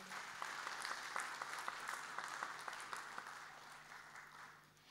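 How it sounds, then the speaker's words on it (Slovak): An audience claps warmly for a woman at a Slovak social-help event, a steady patter of many hands close by that fades slightly toward the end, with no voices over it. "Veľký potlesk, prosím, pre ňu."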